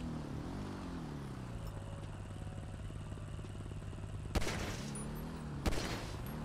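Gunfire in a GTA roleplay game, two sharp distinct shots a little over a second apart that cut through a steady droning engine-like hum in the background, with no talking.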